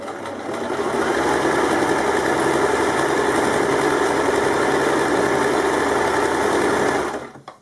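An overlock sewing machine runs steadily, stitching fabric in one loud, close, continuous whirring burst that starts quickly and cuts off near the end.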